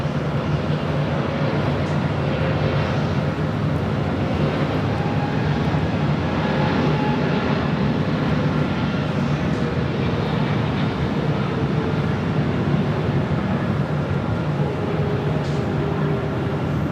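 A jet airliner takes off at Los Angeles airport (LAX), producing a continuous loud, broadband engine roar and rumble that stays steady for the whole stretch.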